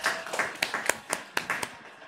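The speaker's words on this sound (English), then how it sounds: "Round of applause for Chef Smith." Sparse hand claps from a small group at a food presentation evening, a handful of distinct separate claps spread over about two seconds, fairly quiet and without any cheering.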